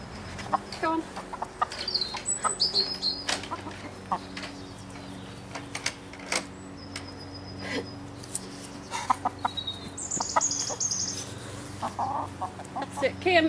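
Chickens cluck and murmur on a farm as they are herded to their roost for the night, with scattered nearby clucks and brief bird calls throughout and a person's voice calling to them at times.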